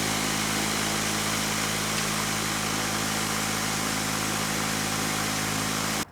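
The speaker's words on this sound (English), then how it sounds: "is where I drive the machine with the tracks" Engine of a tracked robot machine idling steadily, a loud continuous droning hum with a constant rough texture, cutting off abruptly at the end.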